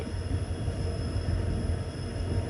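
A local passenger train runs along the line, producing a steady low rumble with continuous rail and wheel noise at constant loudness throughout. No one speaks.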